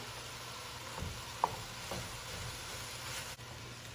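Ground beef and sausage browning in a pan for lasagna, a soft, continuous low sizzle with a single sharp clink near the middle, faint and unaccompanied by talk.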